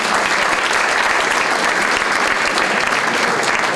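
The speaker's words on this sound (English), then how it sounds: "We'll just give him a round of applause." Steady, dense applause from an audience at an international football press conference in Genova, loud and continuous throughout with no break.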